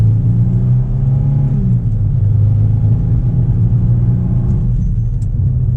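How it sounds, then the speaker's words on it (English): Inside the cabin of a 2019 Nissan Frontier Pro-4X pickup, its V6 engine hums loud and low as it accelerates, the drone rising in pitch with a brief drop at a gear change, then climbing again steadily. "Let's get a acceleration with this little V6."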